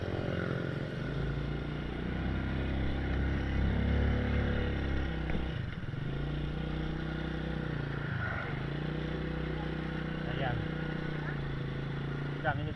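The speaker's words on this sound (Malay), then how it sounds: "Melajukan motor itu sekali tu." A motorcycle engine drones steadily and loudly throughout, with the pitch dipping and rising as it revs, while a voice talks over it.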